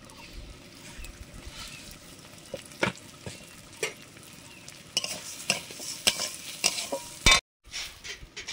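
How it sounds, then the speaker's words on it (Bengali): Mung dal being fried and stirred in a pan, giving a steady low sizzle with intermittent scraping clicks of the spoon that grow busier toward the end, with no talking. "মুগ ডালটা ভেজে সেদ্ধ করতে দেব।"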